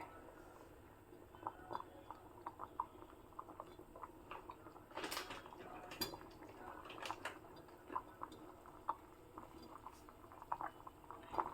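A pot of broth with green chilies simmers on a stove, giving soft, irregular bubbling and popping with faint ticks and gurgles, quiet and close throughout.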